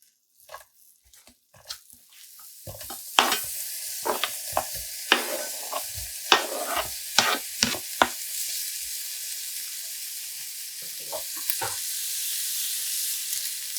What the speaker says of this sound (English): So you'll be able to hear the sizzle.